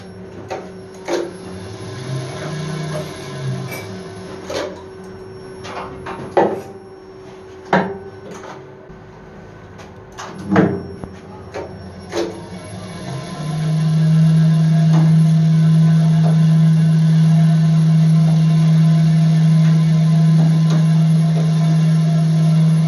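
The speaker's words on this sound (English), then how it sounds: "let's now make the lift move." An Ecodisc lift mechanism is worked by hand, with a run of clunks and clicks before a motor starts and hums steadily and loudly, close up, for the rest of the time without any speech.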